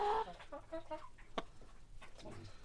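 Several hens cluck softly and repeatedly nearby on a poultry farm, short throaty notes with one sharper squawk, over a quiet background.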